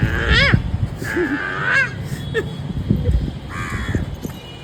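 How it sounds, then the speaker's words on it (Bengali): Crows caw in a few loud, harsh calls spaced apart at fairly close range, with quiet gaps and low background noise between them. "কথাকে বলো কাক কিরম ডাকছে"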